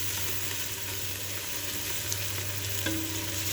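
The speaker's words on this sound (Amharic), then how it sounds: "ከስጋው ትንሽ ጮማውን ቆራረጥ እንደዚህ ስቡን አብሬ ሽንኩርት ጋር ቆላዋለሁ።" Onions frying with chopped meat fat in a pan, a dense, steady sizzle heard up close, with a light scrape of stirring and no talking.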